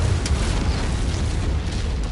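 A heavy orbital cannon explodes in the MechWarrior 5 mech combat game, a loud, continuous low rumbling blast that fills the whole moment with dense, sustained booming noise.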